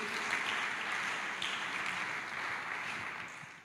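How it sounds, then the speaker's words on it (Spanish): A church congregation at a Spanish-language service applauds for the Lord, producing a steady, dense wash of clapping that holds evenly throughout with no talking over it. "damos un aplauso al Señor"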